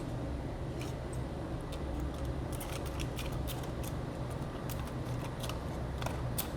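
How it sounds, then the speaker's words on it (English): Scissors snip through stainless steel heat-treat foil bags to free knife blades, giving a run of sharp, crisp metallic clicks and crinkles over a steady low hum, close and fairly quiet. "So I'm trying to use the scissors to get the blades free instead of my fingers."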